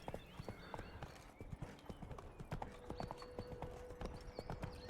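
Horse hooves clip-clop steadily at close range in The Witcher 3, with an occasional faint whinny and game background sound beneath.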